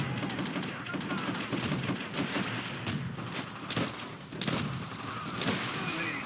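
Continuous battle gunfire in Call of Duty: World at War, dense rapid shots and bursts with distant crackle throughout, and a few louder close reports standing out.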